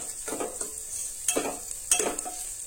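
Onion with turmeric is stirred in a frying pan, with soft sizzling and several distinct spatula scrapes close by.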